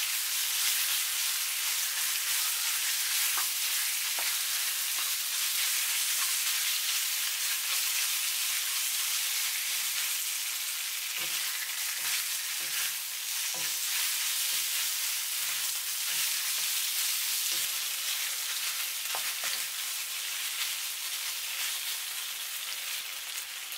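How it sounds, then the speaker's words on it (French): Marinated beef is stir-fried with garlic in a pan for a Chinese cabbage sauté, a loud, continuous sizzle with scattered clicks of the spatula stirring throughout, no talking. "Quand il commence à dorer, je mets le bœuf mariné. Je remue pendant 2 minutes."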